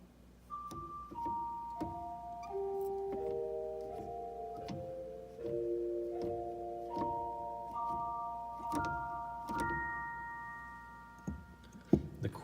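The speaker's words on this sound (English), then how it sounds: "The roar flute, a celesta." A celesta voice played through the roar flute stop of an MDS-45 organ, with bright, chiming struck notes in a melodic sequence of overlapping sustained tones, each with a soft metallic attack, closing with a short knock.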